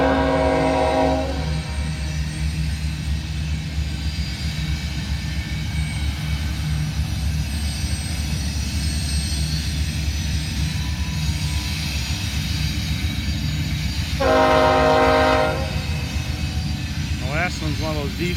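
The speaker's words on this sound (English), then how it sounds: "a UP loco in the lead, a CP loco in second, 2 NS locos" A freight train with UP, CP and NS locomotives passes, giving a loud, steady rumble and grinding roar throughout. Two horn blasts sound, one at the start and one near the end, and a voice speaks briefly at the close.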